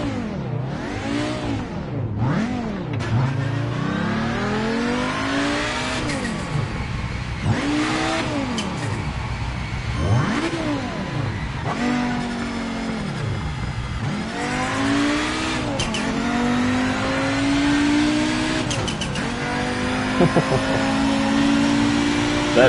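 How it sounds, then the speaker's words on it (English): A turbocharged race car engine in the racing game Project Motor Racing revs loudly and repeatedly, pitch sweeping up and dropping through gear changes, with a turbo whine and occasional tyre squeal under a near, sustained engine roar. "The turbo just sounds so nice."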